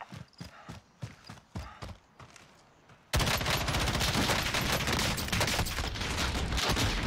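Warzone video game combat: a run of irregular, spaced thuds breaks into a loud, sustained, dense burst of LMG machine-gun fire that continues without a pause to the end.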